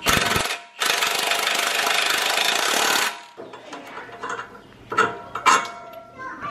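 A new wheel stud being screwed into a spacer for custom wheels on a GT500. A loud, buzzing power-tool burst starts it, followed by a sustained rattling run, then scattered quieter mechanical clicks and taps.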